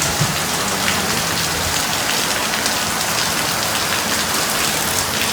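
Heavy tropical rain pours steadily near Nusa Penida island off Bali, a dense, loud, continuous hiss of drops drumming on surfaces with no pauses or voices.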